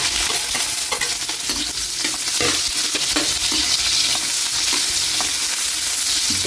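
Garlic and onion added to ginger already frying in a pan, a loud continuous sizzle with repeated stirring scrapes throughout and nobody talking.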